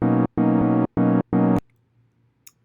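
Sylenth1 synth chord plucks with polyphony raised to 16: four loud, sustained, bright chord stabs in a steady rhythm, each cut off sharply, then near silence with a faint tick.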